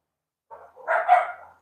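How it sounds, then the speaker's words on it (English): Indoor dogs give a short burst of barks and yips that rises to one louder bark and then fades, heard close and alone against silence. "See, my dogs have decided to come and join me."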